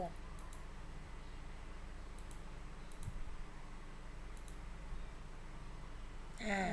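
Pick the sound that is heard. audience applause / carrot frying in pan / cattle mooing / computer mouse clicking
computer mouse clicking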